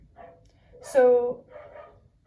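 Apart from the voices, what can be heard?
dog barking outside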